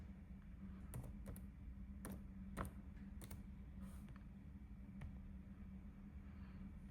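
Scattered, faint key taps on a computer keyboard as a password is entered, sounding as a handful of irregular clicks over a quiet low rumble, with no talking.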